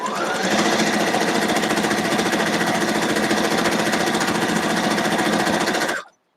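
A sewing machine chain piecing quilt blocks runs continuously at high speed, a close, loud, steady mechanical rattle that stops abruptly just before the end.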